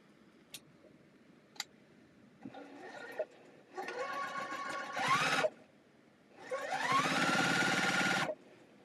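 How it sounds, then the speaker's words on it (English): A foot-pedal sewing machine chain-sews cotton quilt squares: a few isolated clicks, then short runs of stitching and two longer, steady whirring bursts, heard up close. "I'm just going to start chain sewing these"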